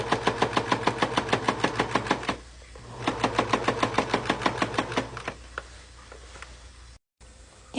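A sewing machine stitching boning channels in a costume bodice, rapid loud rhythmic pulses in two close bursts of even stitching with a short pause between, then quieter handling.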